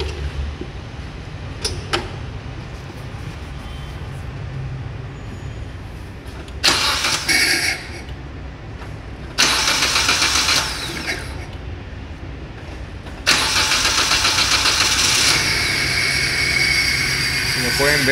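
A Suzuki K14B car engine with one misfiring cylinder, heard idling, then cranking and catching in three separate loud bursts, each starting rough and uneven over a low background rumble; a door sound may also occur.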